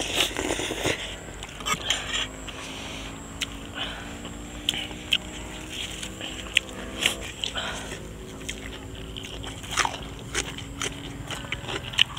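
Crispy food being chewed up close, loud sharp crunches and bites repeating irregularly over a faint background of other sounds, with occasional soft voices.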